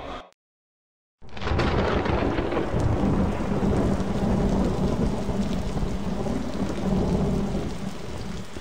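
Heavy rain pours steadily in the Road to Nowhere adventure game, a dense continuous hiss with low thunder rumbling underneath, starting abruptly after a brief silent gap and holding loud to the end.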